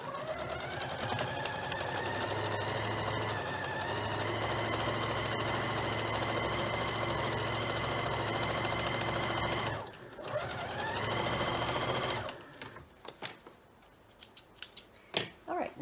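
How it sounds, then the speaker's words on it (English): A sewing machine runs a quarter-inch seam on a strip-pieced quilt-as-you-go table runner. Its motor hums steadily and close for about ten seconds, pauses briefly, then runs again before stopping, and some handling clicks follow. "So now I'm going to sew that 1/4 of an inch seam allowance"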